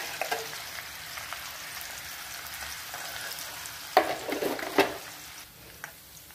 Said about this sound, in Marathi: एक मोठा कांदा मी बारीक करून टाकलेला आहे याच्यात.